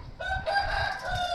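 An Amroha cross Aseel rooster, about 16-17 months old, crows one drawn-out, wavering call at moderate distance with no talk over it.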